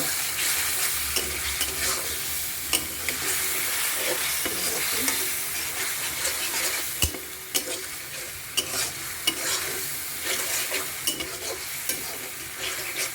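Tilapia and eggplant fry in a pan with a loud, dense, continuous sizzle, overlaid by steady stirring scrapes and occasional sharp clicks of the spatula.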